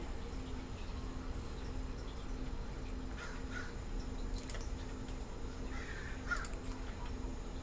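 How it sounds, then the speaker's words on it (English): Crows cawing outdoors, several harsh calls spaced a few seconds apart at moderate distance over a steady background hum; no one speaks. "Do you hear those birds out there?"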